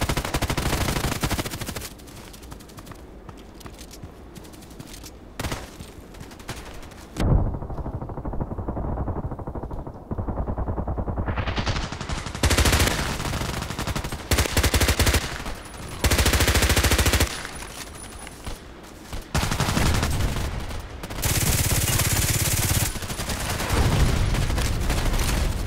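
H&K MP5k submachine gun bursts in Contract Wars, loud rapid automatic fire in repeated strings with short gaps between volleys, over game ambience.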